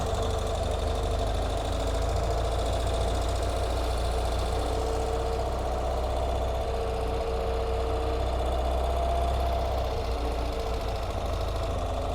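Modern Ural 2WD motorcycle with shaft-driven drivetrain, its engine running at a steady idle, a constant near, low throbbing rumble with faint mechanical clatter and no talking.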